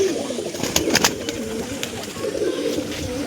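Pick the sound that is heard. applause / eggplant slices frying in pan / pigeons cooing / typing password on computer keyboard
pigeons cooing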